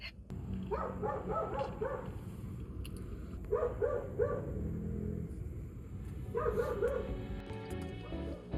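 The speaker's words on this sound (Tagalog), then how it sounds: "Ang ingay ng aso." A dog barks in three short bursts a few seconds apart, a little distant, with a low background hum between them.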